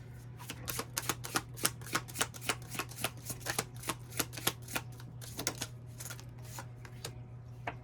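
Oracle fairy cards shuffled close up, a steady rhythmic series of crisp riffling flicks and taps over a low background hum, with no one speaking.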